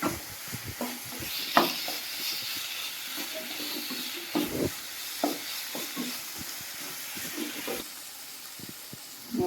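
Samosa stuffing fries in a pan with a steady sizzle and hiss, broken by irregular scraping strokes of a spoon stirring the mixture, fairly close and with no talking.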